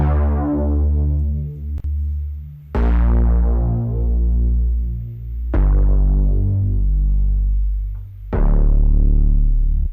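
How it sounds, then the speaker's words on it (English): Deep synth bass line built with an R bass instrument and a thermal clipper on a Club Clipper preset, playing loud sustained low notes that restart at each new note across the whole stretch, heard alone. "So here's what the bass sounds like by itself."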